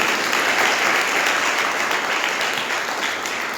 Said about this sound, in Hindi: ताली मार के धन्यवाद करो